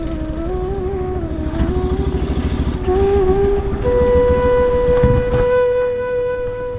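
A motorcycle engine idles and revs nearby, its steady drone shifting pitch a few times before settling into a constant hum.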